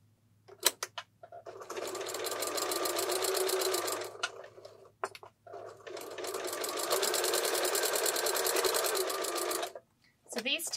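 A sewing machine stitching a taggie baby blanket runs in two long, steady bursts of fast mechanical chatter, broken by brief pauses and clicks.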